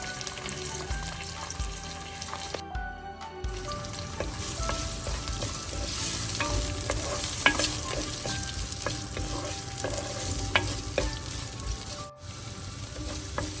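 Curry leaves, onions and chillies fry in a pan, a steady loud sizzle with scattered crackles and pops running throughout, no voices.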